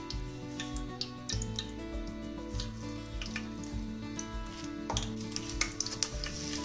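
Cumin seeds sizzle and crackle in hot oil in a pan for a home-style mutton curry, a steady frying hiss with stirring scrapes over a low music bed, no talk.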